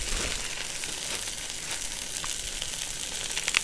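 A spoon roast browns in a hot pan, giving a steady, loud, close sizzle and crackle that runs continuously with small pops and no talking.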